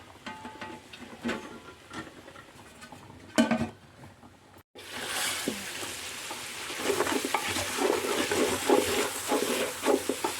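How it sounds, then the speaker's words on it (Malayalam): Hot water poured into a sizzling pan of Palakkad-style vegetable curry: utensil clatter and stirring first, a brief near-silence, then a sudden loud hissing surge that keeps bubbling and crackling. "നന്നായി ആവി വന്നിട്ട് നമുക്ക് ഇതിലേക്ക് ചൂടുള്ള വെള്ളം ഒഴിച്ചു കൊടുക്കാം"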